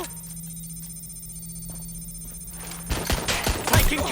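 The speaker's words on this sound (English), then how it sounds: "I'm taking fire!" Gunfire aimed at the player in Watch Dogs Legion breaks out suddenly near the end as a loud, rapid burst of shots over a steady electronic hum.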